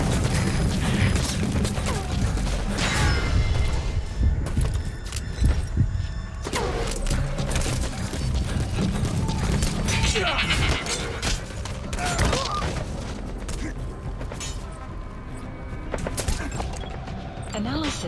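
Dense gunfire and explosions rattle through a Metal Gear Solid V: The Phantom Pain battle against armored vehicles, a continuous barrage of shots and booms with radio voices calling out over it.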